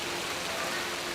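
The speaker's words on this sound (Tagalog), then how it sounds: "Biglang bumuhos ang malakas na ulan." Heavy rain pouring down on a flooded school, heard as a dense, even wash of hiss with no breaks, fairly loud and close.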